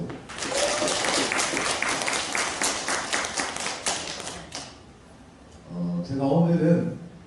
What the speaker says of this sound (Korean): 고맙다는 큰 박수 한번 주십시오